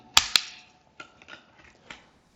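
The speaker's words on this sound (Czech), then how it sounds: "OK, střelba slabou rukou." Two sharp, loud gunshots fired weak-handed from a ready position during a shooting drill, in quick succession, followed by several fainter cracks and clatter.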